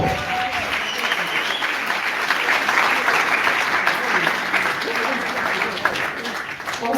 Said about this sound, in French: Je vous prie d'applaudir bien fort pour tous les artistes.